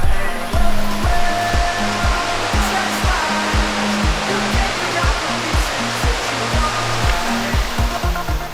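The Tumpak Sewu waterfall on Java, about 390 feet tall, fills the scene with a steady, full roar of falling water, with a rhythmic low musical beat pulsing underneath throughout.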